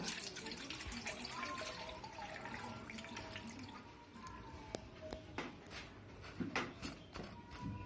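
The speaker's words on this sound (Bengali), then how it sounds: "আমি একটা ছাঁকনি নিয়েছি এর মধ্যে আমি দুধটা দিতে দিব" Coconut milk poured through a kitchen strainer makes a steady running, trickling liquid sound with small drips, continuing throughout with no talking.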